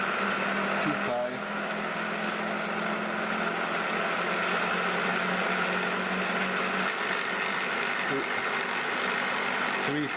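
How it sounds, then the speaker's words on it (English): Gear wheels whir steadily inside a running gearbox on a transmission rig, a dense continuous mechanical drone with a faint tonal whine, loud and unbroken throughout with small clicks along the way. "the noise you hear is actually just the gear wheels inside the gearbox"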